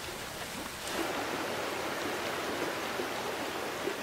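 A stream flows steadily through Yosemite, its broadband rushing water continuous and fairly close, with the roar swelling slightly after the first second and holding even to the end.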